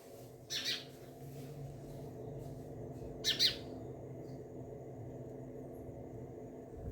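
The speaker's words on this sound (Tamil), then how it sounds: "எங்கள் வீட்டில் 2 பக்கம் 2 சைடுமே குருவி கூடு கட்டியிருக்குங்க." Sparrows nesting inside a house give two brief bursts of chirping, separated by a few seconds, over a steady low indoor hum.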